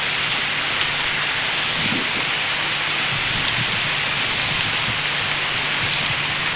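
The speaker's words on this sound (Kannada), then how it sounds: "ಶಿಟ್ ಮತ್ತೆ ಮಳೆ ಬಂತು." Steady rain falls continuously, a dense, even hiss of drops on surfaces with a low rumble beneath, no voices.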